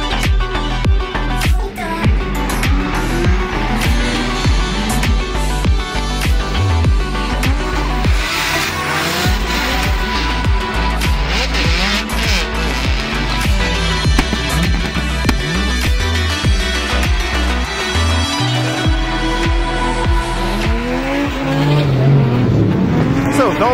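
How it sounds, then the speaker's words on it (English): Car drifting at night at Mondello Park, with loud engine revving and repeated tire squeal and skidding as it slides, close and sustained throughout. "First time drifting at night in Mondello Park"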